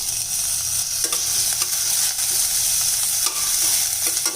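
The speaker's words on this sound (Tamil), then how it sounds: "இப்போ இது கொஞ்சம் நல்லா வதக்கி வரட்டுங்க." Onion, tomato, cumin and crushed garlic sizzle steadily in a pan, with repeated scrapes and clacks from stirring over a constant frying hiss, close up and without speech.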